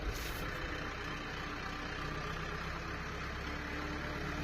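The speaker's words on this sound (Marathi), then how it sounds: "केला ट्रॅक्टर चालू" A tractor engine runs steadily at idle, a low, continuous rumble throughout with no voices.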